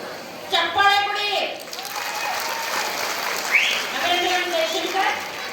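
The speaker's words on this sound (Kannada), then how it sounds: "ಚಪ್ಪಾಳೆ ಕೊಡಿ" Applause from an audience at a costume competition, greeting a contestant; steady clapping rises sharply and carries on for several seconds, with voices and a few shouts mixed into the crowd.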